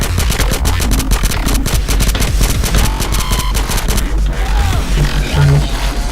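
Dense, loud machine gun fire from the video game GTA San Andreas rattles rapidly and almost without pause, layered over thick game noise.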